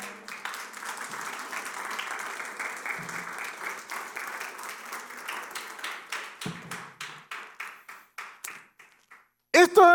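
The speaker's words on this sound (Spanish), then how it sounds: "¿Cuánto le da un aplauso a Dios por eso?" A church congregation claps together, close and fairly loud, the applause thinning into separate, slowing claps before a voice briefly breaks in at the end.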